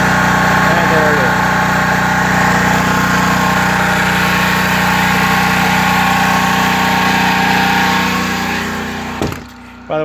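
A Harbor Freight portable generator runs loudly and close by during a power outage at a house, a steady droning engine that holds for about nine seconds before a brief disturbance near the end.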